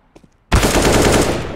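A loud burst of automatic gunfire in Counter-Strike starts abruptly after a brief quiet moment and then continues as rapid, sustained shots close to the player.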